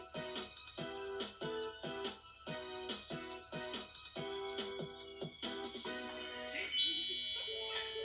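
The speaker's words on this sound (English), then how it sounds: "Oh, I can hear the fairy phone." A tinkling, bell-like fairy phone ringtone repeats in short bursts, a chiming melody that ends with a brief higher flourish, in a children's TV episode.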